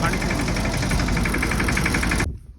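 A small tractor engine runs steadily with a throbbing, rattling idle, close by, then cuts off abruptly near the end.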